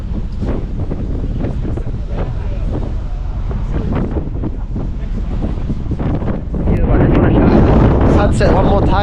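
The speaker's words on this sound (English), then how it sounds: "the wind is blowing really strongly" Strong wind buffets a ship's deck at sea on an overnight cruise to Busan, a steady loud roar against the microphone that swells into heavier gusts near the end, with water and engine rumble underneath.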